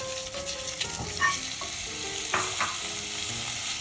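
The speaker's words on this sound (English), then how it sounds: "Alright, so we're gonna add in our Parma ham here. Just a quick stir," Parma ham sizzles and fries in a Staub oval cocotte as a utensil gives it a quick stir, with bright crackling fat and a few scrapes against the pot, close and steady with no talking.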